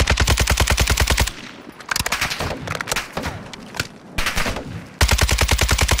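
Rapid automatic gunfire from a weapon in a first-person shooter video game, loud, close bursts of evenly spaced shots at the start and end, with scattered shots and game effects in between.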